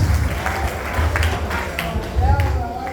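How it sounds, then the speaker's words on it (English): A church congregation claps along at a discipleship service, uneven hand claps and taps mixed with crowd noise, fairly close and lively, with low rumbling underneath. "Give a clap of it to Jesus."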